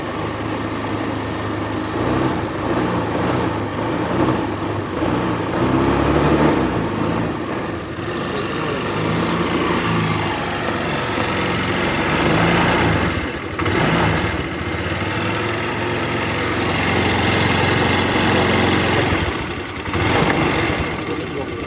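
A used motorcycle with original parts in good condition, its engine running steadily at a close idle with a continuous mechanical chug, while someone talks over it.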